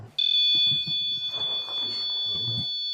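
A sustained high electronic tone from an EMF meter sounds continuously while quiet speech-like murmurs and chirps occur underneath.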